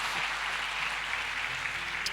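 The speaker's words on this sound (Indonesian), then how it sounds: "Berikan tepuk tangan kita untuk Tuhan kita" Congregation at a prayer service clapping together, a dense even wash of applause that stays steady and fairly close for a couple of seconds.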